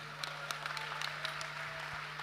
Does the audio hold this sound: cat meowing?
no